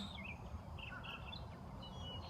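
Faint bird chirps and short calls come and go over a soft, steady background hum, with no voices.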